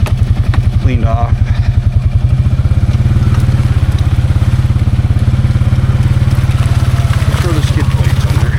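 Can-Am 700 XMR ATV with a tire upgrade idling as it backs up, a steady rough low engine rumble close by with some clatter, and a voice speaking over it.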